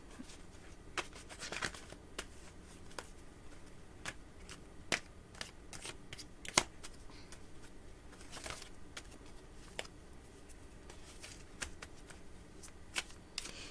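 Tarot reading cards are shuffled by hand in a quiet room, giving repeated soft riffling snaps and light flicks in an irregular rhythm, close and fairly faint with no talking.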